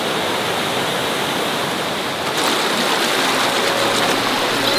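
River water rushing steadily, a loud continuous broadband wash close by with no pauses and no voices.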